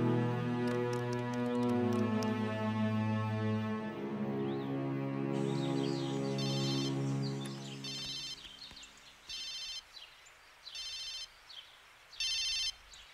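A telephone rings during a police scene in a Marathi film. Background music fades out, then short, evenly spaced electronic ring bursts repeat with pauses between them, fairly quiet and without speech.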